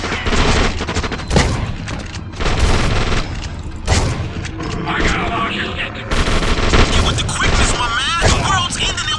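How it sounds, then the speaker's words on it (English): Rapid bursts of enemy gunfire in the horror game The Suffering, loud and near, with repeated volleys and booms throughout, mixed with game sounds. "Stop shooting me, you son of a bitch."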